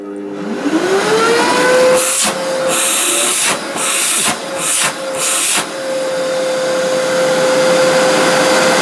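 A Festool CLEANTEC CTL 36 E AC construction vacuum cleaner switches on and its motor whines up to a loud, steady drone, with several sharp bursts of filter-shaking clatter partway through before the steady run continues.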